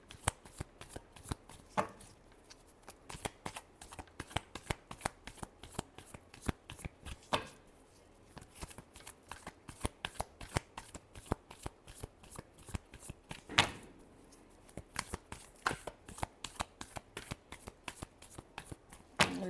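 Tarot cards are shuffled close by in a quiet room, giving a long, steady series of crisp riffling slaps and flicks with occasional louder snaps.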